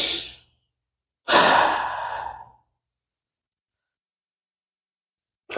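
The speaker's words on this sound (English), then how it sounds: "Breathe out." A deep, audible exhale during a yoga standing splits pose, preceded by the tail of a breath, close and clear with silence around it.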